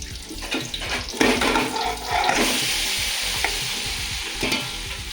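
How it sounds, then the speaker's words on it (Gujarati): Dates with ghee and dry fruit stirred in a pan for khajur pak, a steady sizzle with scraping spoon strokes and a wet, watery hiss throughout, close and moderately loud with no talking. "હવે આપણે આ ખજૂર એમાં એડ કરી દઈશું"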